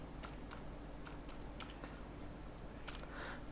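Sparse, quiet keystrokes on a computer keyboard while entering code, a few irregular clicks close up over a low steady hum.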